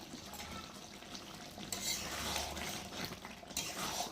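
Green chilli chicken kosha curry being stirred in a pot after garam masala is sprinkled in, with scraping and clinking of a utensil against the pot over a low frying sizzle, close by and without talk.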